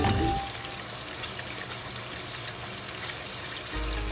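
Fish frying in hot oil, a steady broadband hiss and crackle of spattering fat that runs continuously and fairly close, with no voices.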